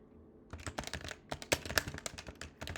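Keystrokes clatter on a computer keyboard in short irregular bursts, crisp and close, starting after a brief quiet moment and continuing with small pauses between runs of typing.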